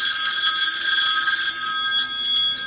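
A telephone bell rings loudly and close, a bright, steady metallic trill with sustained high tones that carry through the whole stretch, with no talking over it.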